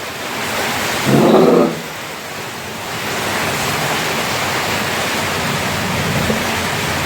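Heavy rain pours steadily around a village, a dense, even hiss that surges briefly early on and then stays constant, with no speech.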